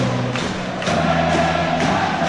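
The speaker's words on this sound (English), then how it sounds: "the Storm crowd get behind their team" An ice hockey crowd backing Manchester Storm roars and chants in an arena, with rhythmic thumps and a broad wash of noise as music plays over the PA.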